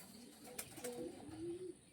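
A pigeon coos close by, a low throaty rolling call lasting about a second over faint room noise.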